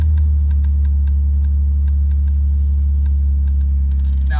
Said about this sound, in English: I'm gonna push the gas a little bit while releasing the clutch